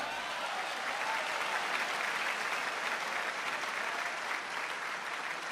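Continuous clapping from a crowd at the Jashn-e-Urdu mushaira and kavi sammelan poetry recital in Dubai, even and moderately loud, sustained for the whole stretch with no voices standing out.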